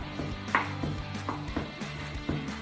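A knife blade presses and taps against a cutting board while mashing sliced garlic, giving a series of soft, irregular knocks, close and fairly quiet with no talking.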